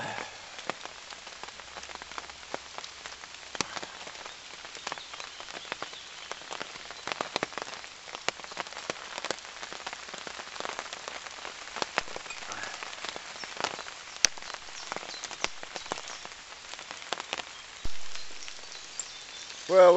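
Heavy rain drums steadily at a wild camp, with countless close drops pattering and tapping on a surface. Louder individual drips stand out from the dense hiss.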